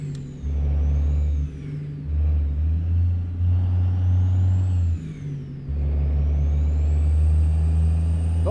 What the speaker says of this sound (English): We're behind a McDonald's truck.